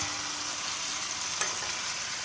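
Potol, or pointed gourd, is stirred and fried with potato and spices in a pan, giving a steady, close, hissing sizzle with a single brief scrape of the spatula partway through.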